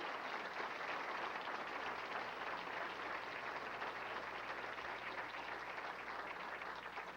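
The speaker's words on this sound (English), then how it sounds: "I think they deserve a terrific round of applause" Faint, distant round of applause at an athletic hall of fame ceremony, a steady wash of clapping from an audience that holds evenly throughout with no speech over it.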